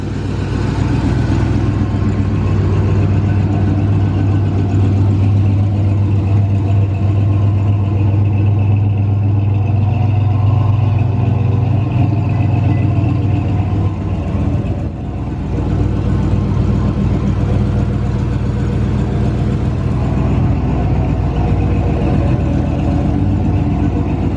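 A 1972 Chevrolet Chevelle engine runs steadily at idle, a loud, close low rumble and drone holding evenly with a slight dip midway, no talk over it.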